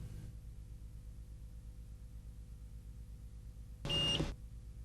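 A Greer RCI510 crane load indicator sounds a single short electronic alarm beep, a clear high tone lasting under half a second over a quiet low engine hum.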